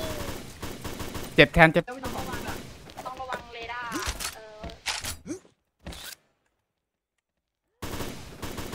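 Gunfire in a Thai online shooter with a powerful rifle, rapid sharp shots mixed with game effects and someone talking excitedly over them, then an abrupt drop to silence before the sound returns.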